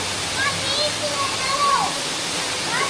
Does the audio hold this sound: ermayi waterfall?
yes